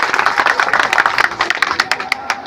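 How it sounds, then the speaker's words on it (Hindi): A crowd at a dowry-free wedding claps loudly and steadily, a dense wash of many hands with sharper individual claps standing out near the end, and faint voices mixed in. "तो एक बेर लड़का लड़की पक्षटा जोरदार ताली हेबाक चाही"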